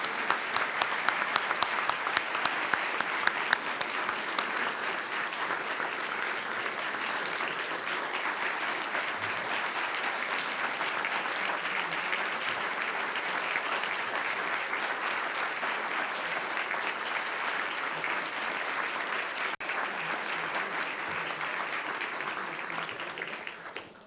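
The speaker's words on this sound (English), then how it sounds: "How about a round of applause for our speaker today?" Audience applause at the National Press Club after a talk by Interior Secretary Sally Jewell, dense sustained clapping from a roomful of people that holds steady for over twenty seconds and then stops abruptly.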